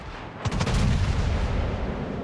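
Tirpitz battleship main guns firing in World of Warships, a deep booming salvo of several rapid blasts near the start that rolls into a long, loud rumbling tail.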